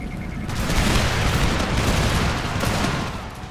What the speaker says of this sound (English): Broke them with a nice, well-timed volley